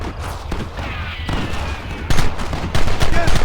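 Gunfire erupts in a Red Dead Redemption firefight, a dense volley of shots that swells louder partway through, with voices shouting over the battle.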